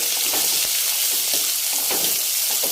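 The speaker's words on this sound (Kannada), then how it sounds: "ಈರುಳ್ಳಿ ಹಾಕ್ಕೊಂಡಿದ್ದ ನಂತರ ಸ್ವಲ್ಪ ಫ್ರೈ ಮಾಡ್ಕೊಳ್ಳಿ." Onions fry in a pan with a loud, continuous, close-up sizzle and occasional soft stirring clicks, with no voices.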